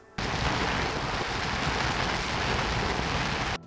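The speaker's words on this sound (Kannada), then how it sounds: "ತಾಲೂಕಿನಾದ್ಯಂತ ಭಾರೀ ಮಳೆಯಾಗುತ್ತಿದ್ದು ಸಮುದ್ರದಲ್ಲಿ ಕಡಲ ಅಬ್ಬರ ಜೋರಾಗಿದೆ" Heavy rain pours down at sea off the coast at Gangolli during rough, stormy surf: a dense, steady roar of loud broadband noise that holds evenly for several seconds with no voices.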